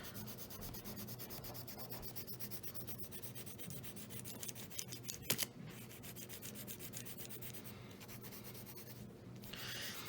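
Watercolor pencil strokes across paper give a close, quiet, continuous scratchy rubbing with a rapid back-and-forth rhythm as colour is layered onto darker lines, with a few sharper scrapes and taps.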